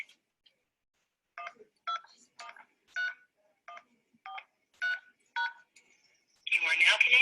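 Telephone keypad tones as a PIN is entered on a phone: about eight short, evenly spaced beeps, clear and close, followed by a louder burst of a prompt or connection sound at the end.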